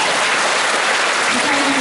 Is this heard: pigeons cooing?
no